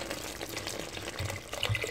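Water pours into a cooking pot of meat as a steady, close splashing and gurgling stream, heard alone.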